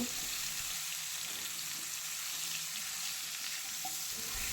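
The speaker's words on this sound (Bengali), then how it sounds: "গ্যাসের ফ্লেমটা হাইতে করে মিনিট দুই তিনেক সময় ধরে ভেজে নেব" Raw mango pieces fry in a pan with turmeric and red chilli powder over a high gas flame, giving a steady, even sizzle throughout with no talk.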